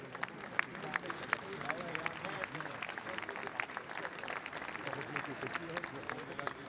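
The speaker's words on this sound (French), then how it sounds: "On peut l'applaudir." Fairly faint, distant applause from an audience at a speech by Emmanuel Macron in Dunkirk on reindustrialisation, a steady patter of many hands with scattered sharper claps and a murmur of crowd noise.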